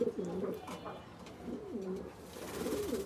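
Pigeons coo at close range, a few rolling, throaty calls rising and falling one after another with short pauses, loud and clear over faint background rustle.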